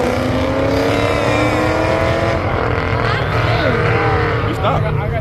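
Mustang and Chevy race cars roar around a race track, a continuous loud engine drone with shifting pitch as they pass, voices audible faintly over the motors.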